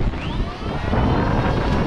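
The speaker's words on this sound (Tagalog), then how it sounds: "nagwawala na naman ang hangin" Loud, rough wind buffeting the microphone in continuous gusts on a boat, with a faint whine of an engine passing in the background.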